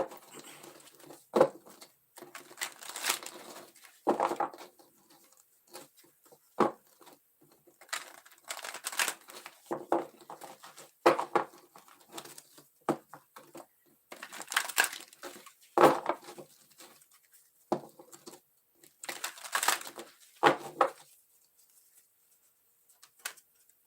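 Tarot cards being shuffled in repeated bursts of soft riffling and patting, close up and fairly quiet, with brief pauses between shuffles.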